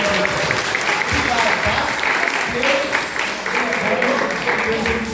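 Loud, dense applause from a church congregation continues throughout, with a voice speaking briefly over the clapping.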